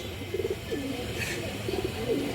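A pigeon coos close by in two short repeated bursts of soft, low throaty notes, with faint background noise between them.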